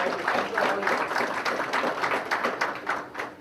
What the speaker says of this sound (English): let's give a big round of applause for Bala